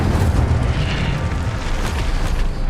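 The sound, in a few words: Incendio fire spell explosion, from a wizard video game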